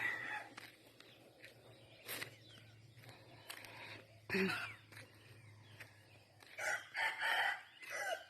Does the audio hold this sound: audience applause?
no